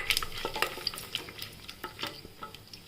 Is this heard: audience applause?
no